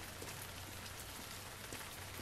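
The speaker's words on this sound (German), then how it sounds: "Und es regnet im Strömen." Steady heavy rain pours down in the video game Heavy Rain, a dense constant hiss of drops on surfaces with no break and no talking.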